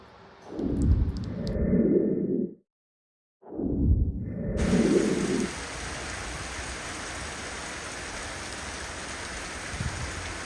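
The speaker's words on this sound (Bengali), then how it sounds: "আচ্ছা বৃষ্টির শব্দ শুনতে কেমন লাগে তোমাদের" Rain falls in a steady, dense hiss, continuous and even once it begins partway through. It follows a few louder, rumbling sounds at the start.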